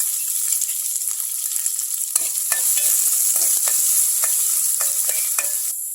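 Chopped onions and dried red chillies sautéing in hot oil in a pan, a loud continuous sizzle with repeated scraping stirs from a spatula, no voices.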